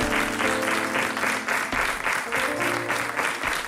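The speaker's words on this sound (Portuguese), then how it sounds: "Um grande aplauso." Studio audience applause on a Portuguese TV talk show, a dense, steady clapping that fills the clip and swells in waves, with music faintly underneath.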